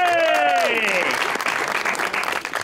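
A studio audience on a television show breaks into loud applause welcoming a singer, starting under a speaking voice and continuing as steady clapping.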